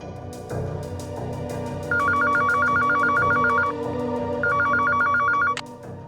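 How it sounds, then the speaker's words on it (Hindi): An old-style telephone rings in two bursts of rapid electronic trilling over a low background hum, then cuts off abruptly. "और अब फोन किया है लैंडलाइन से।"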